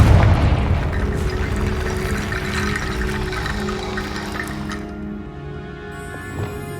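A Confringo blasting spell cast in Hogwarts Legacy sets off a booming, rushing burst that rolls on as a washy rumble before fading into quieter game ambience.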